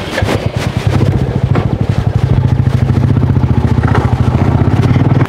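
A motorcycle engine chugs loudly and close by with a steady rapid putter that firms up after a brief start, running continuously as if pulling away, with no talk over it.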